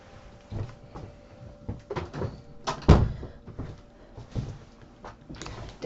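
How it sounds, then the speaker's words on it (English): A door being shut indoors, heard as soft shuffles and bumps that build to one firm thud, followed by quieter handling sounds, close by with no talking. "just let me shut my door for a minute."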